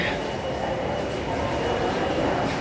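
Metro rail train standing at a station platform in Dhaka while passengers step off, a steady broadband rumble and hiss filling the whole stretch with a faint murmur of voices underneath.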